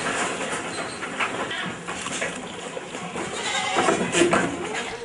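Goats bleat in a farm shed in Sindhudurg that holds separate pens for does, bucks and kids, with a few calls rising over a busy, rustling background.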